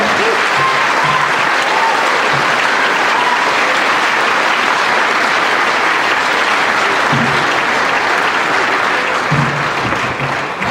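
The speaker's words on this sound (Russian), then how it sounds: "Ваши громкие аплодисменты." Loud, sustained audience applause at a concert between stage acts, a dense wash of clapping from a large crowd lasting over ten seconds with little variation.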